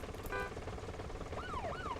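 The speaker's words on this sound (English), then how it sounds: "And there's the siren buttons because it's a police car." A police car siren in the driving game City Patrol: Police gives two quick rising-and-falling wails over a dense, steady rumble of engine and game noise, fairly faint and brief.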